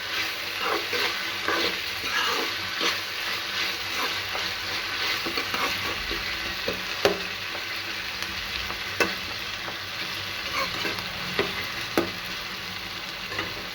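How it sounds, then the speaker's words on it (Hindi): Onion, tomato and raw mango fry in a pan with a constant sizzle, while a spoon scrapes and taps through the mixture in repeated stirring strokes, up close. "ये जब तक प्याज और टमाटर और कच्ची कैरी अच्छे से पक नहीं जाएंगे तब तक हम इसको ऐसे ही मिक्स करते रहेंगे।"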